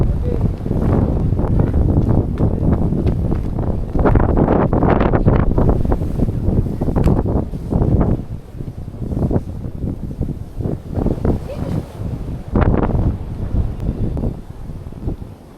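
Strong wind gusts buffet the microphone on snowy Mt. Goz, a loud rumbling roar that rises and falls in waves, with faint voices partly buried underneath.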